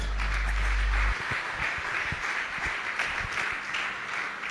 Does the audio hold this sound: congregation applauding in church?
yes